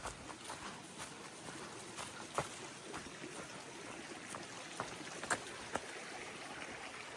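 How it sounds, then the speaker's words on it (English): Water flows in a small stream under a little bridge, a faint, steady trickle with soft scattered clicks and taps, heard from nearby at low level with no talking. "I'm coming up to a little bridge here, and I hear water"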